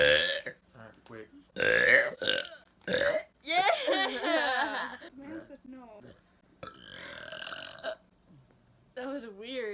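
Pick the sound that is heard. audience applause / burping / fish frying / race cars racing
burping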